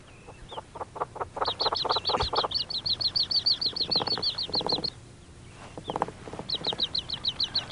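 Hungry nestling birds chirp in rapid high-pitched bursts, a dense run of repeated peeps that pauses and resumes, alongside a few lower clucking calls close by.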